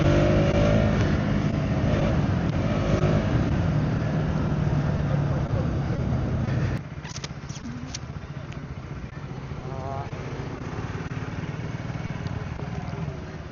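A car being driven close to a beach on a day out in Gujarat gives a steady, fairly loud engine and road roar that drops to a quieter, thinner hum about halfway through.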